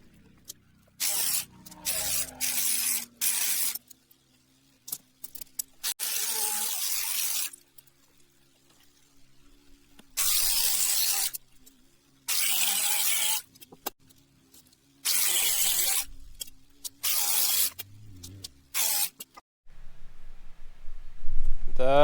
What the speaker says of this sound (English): The grinder is a bit hot because it's only a small grinder.